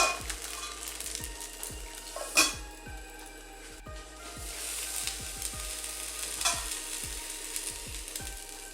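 Palappam batter cooks in a hot pan with a continuous gentle sizzle and a brief clink, under rhythmic background music with falling tones.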